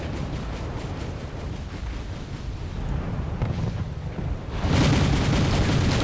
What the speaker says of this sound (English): we have artillery pounding the area